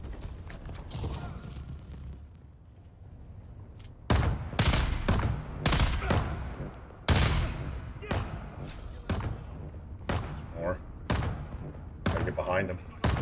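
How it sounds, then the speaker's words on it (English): Turret gunfire in the video game Dune: Awakening, with loud repeated bursts and thuds cutting in and out over several seconds, mixed with a voice talking in the background. "get the turret up."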